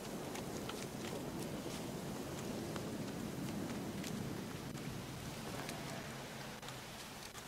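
Steady rain falls in the video game The Witcher 3, a continuous dense hiss with scattered drop patter throughout, fairly loud and uninterrupted by talk.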